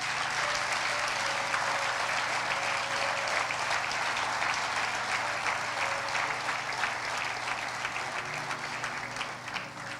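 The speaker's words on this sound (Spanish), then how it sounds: "Denle un fuerte aplauso a Jesús." A church congregation applauds during a Sunday service, a dense, steady wash of clapping that holds for the full length and tapers off slightly at the end.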